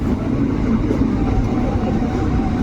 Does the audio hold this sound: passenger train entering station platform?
yes